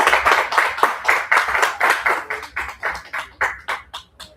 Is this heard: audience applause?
yes